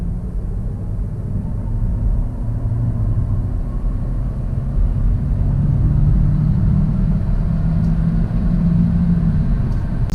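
Steady low road rumble and engine drone come from a 2019 Kia Optima Hybrid sedan cruising on the highway, growing slightly louder partway through, with no talk.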